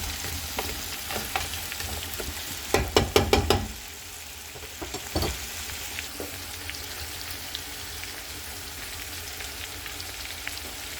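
Marinated crab fries in a pan with a continuous crackling sizzle, broken by a burst of sharp clattering stirring knocks near the middle, then a steady spattering fry at moderate level.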